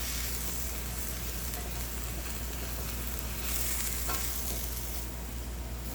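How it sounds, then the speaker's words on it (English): Jalapeño peppers frying in a pan make a dense, steady sizzle that stays loud and even throughout, with faint stirring scrapes and no voices. "Give it a good stir."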